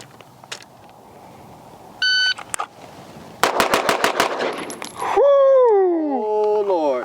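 Rapid strings of pistol shots from a Fowler Vanta 9 handgun at a shooting range, a loud close burst of about eight quick cracks after a few single shots and electronic timer beeps, followed by a descending tonal whine.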